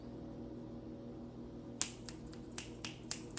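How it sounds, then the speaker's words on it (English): A classroom group snapping their fingers in place of clapping, starting suddenly and continuing as a loose series of crisp, overlapping snaps over steady low room hum. "Because we don't clap, we snap."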